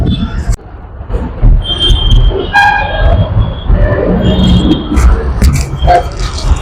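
A metro train horn sounds briefly over busy station noise at Challaghatta metro station, Bengaluru, with rumbling and scattered voices around it.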